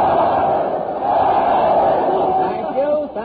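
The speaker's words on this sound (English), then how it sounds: "Look at that crowd. They're giving three cheers for Fred Allen." A crowd greeting Fred Allen at a train with three cheers on an old radio broadcast, a broad roar of many voices swelling and then fading near the end.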